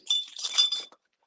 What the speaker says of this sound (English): Who broke some glass?